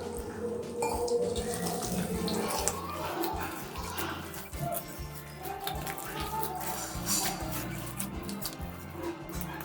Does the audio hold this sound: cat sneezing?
no